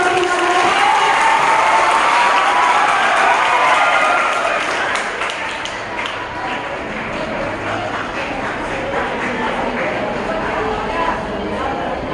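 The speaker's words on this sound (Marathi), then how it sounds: "विवेकसाठी जोरदार टाळ्या" Sustained audience applause fills a school prize-giving hall at a Marathi Language Day event, loud and dense at first, then easing slightly but continuing steadily throughout.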